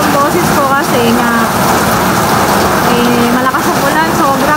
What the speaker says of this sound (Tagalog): malakas ang ulan, sobra pati yung hangin dito sa Bulacan, sa Hagonoy